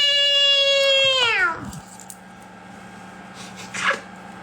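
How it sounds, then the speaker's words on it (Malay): A plump house cat gives one long, drawn-out meow close by indoors, its tone sliding downward before it fades into a quiet room with faint background sounds. "Dia miau."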